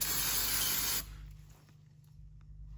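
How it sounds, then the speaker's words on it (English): A loud, steady spray of aerosol brake cleaner hisses for about a second onto a Yamaha Raptor 700 during an oil change, then cuts off, leaving a low background hum and faint clicks. "I'll just take some brake clean, spray that all down"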